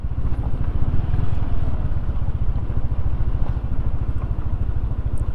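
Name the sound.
motorcycle riding on a steep, rough, curving road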